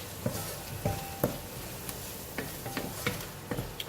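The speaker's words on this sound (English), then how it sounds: "frying the chili is quite an experience" Chili paste frying in a pan with onions and garlic, a steady low sizzle punctuated by irregular clicks and taps of stirring against the pan.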